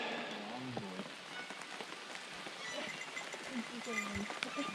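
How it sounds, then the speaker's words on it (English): Steady rain falls around a rock shelter in the woods near Creston, British Columbia, a dense, continuous hiss of drops on surfaces, with people talking intermittently over it. "it also started raining heavier"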